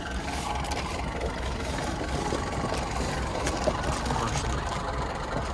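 A diesel engine from a 1989 vehicle runs at a steady idle with a constant low rumble and faint knocking, close by.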